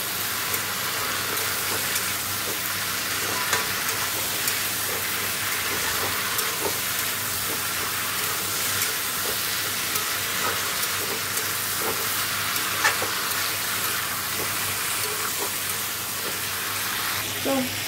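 Potato, sweet potato, pumpkin, tomato and chili curry fries in a pan, a dense steady sizzle with faint periodic stirring scrapes running throughout, no talking.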